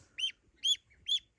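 Newly hatched goose chicks, one of them notably large, give three short, bright chirps in an even rhythm, close by and alone against a quiet background.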